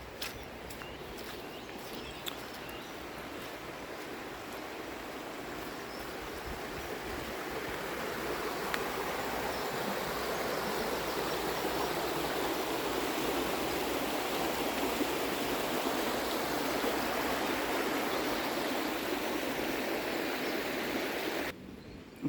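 A river flows through woodland near a cold winter wild camp, a steady broadband rush that swells slightly louder partway through and continues unbroken, with no voices.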